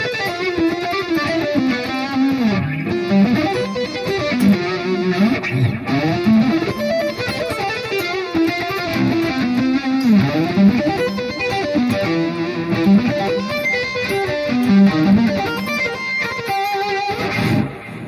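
Distorted electric guitar picks out chord arpeggios in a steady flowing pattern, loud and alone.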